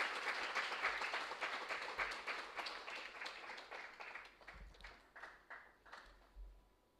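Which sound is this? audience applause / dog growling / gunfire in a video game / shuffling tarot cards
audience applause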